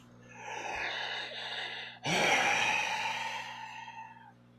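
Heavy, drawn-out breathing from a performer after a wedding scene, with a long audible exhale, a brief pause, then a second deep breath that trails off slowly, close and clear.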